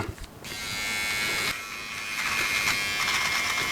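A steady electric body-hair trimmer buzz whirs continuously at close range, with a slight shift in pitch partway through as it cuts artificial turf; no voices.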